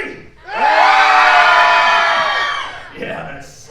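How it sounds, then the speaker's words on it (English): A large crowd at a horror-themed event lets out a loud, sustained group scream lasting about two seconds before trailing off, followed by a smaller burst of shouting. "I need to hear your best horror movie scream"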